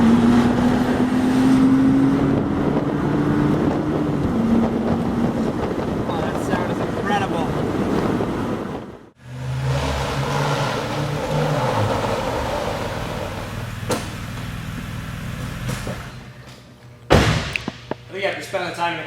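A BMW Z4 3.0si accelerates hard, its engine note climbing steadily under loud wind rush, then a brief gap, then more driving noise with road and wind roar and a few sharp knocks near the end.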